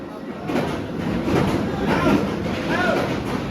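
A steady loud rumbling roar of the Batman roller coaster train rolling on its track, with faint squeals rising above the din and distant voices mixed in.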